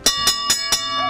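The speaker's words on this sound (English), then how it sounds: "we're here to ring the bell with you" Four loud, evenly spaced metallic bell strikes ring out close by, each a bright clang with a sustained ringing tail, marking a Central Michigan football coach's final day of cancer treatment.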